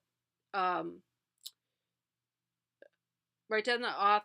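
A computer mouse clicks twice, each a single sharp, faint tick set apart in quiet pauses between short stretches of a person talking.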